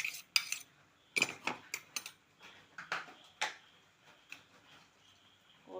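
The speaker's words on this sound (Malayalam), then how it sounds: "ഇനി അതിലേക്ക് നമ്മൾ മിക്സിയിൽ അടിച്ച ആ കൂട്ടുകളെല്ലാം ചേർത്ത് ഒന്ന് മിക്സ് ചെയ്തെടുക്കാം" Cooked squid being mixed with ground spice paste in a vessel, a spoon knocking and scraping in scattered clinks and taps, close and fairly quiet, no talking.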